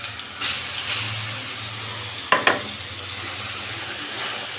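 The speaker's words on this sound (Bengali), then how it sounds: "এগুলো একটু ভেজে নিব" Olives frying in mustard oil for a pickle, a steady broad sizzle with a couple of sharp clinks or stirring knocks midway, close and fairly loud, no talk.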